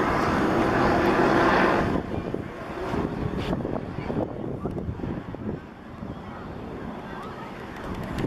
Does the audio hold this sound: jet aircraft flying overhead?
yes